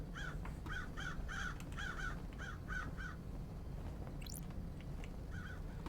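Crows caw repeatedly in the game Paradise Killer, a run of about a dozen harsh calls in steady rhythm over a low ambient drone, followed by a short rising chirp and a couple of later caws.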